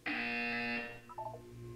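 A loud, harsh electronic buzzer blares for nearly a second in Portal 2, followed by a brief lower tonal chirp and a faint hum afterward.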